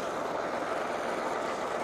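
A Mahindra 575 tractor engine runs at slow revs with no load, making a steady, close drone that holds the same level throughout with no talking.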